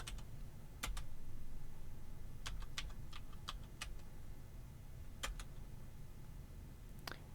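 Short scattered clicks of a computer keyboard as a password is typed during a router setup exercise, faint and sparse over steady background noise, with no talking.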